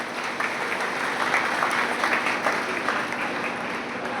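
An audience at a career guidance program in Tankaria claps in sustained, dense applause that holds at an even level the whole way through, with no speech over it.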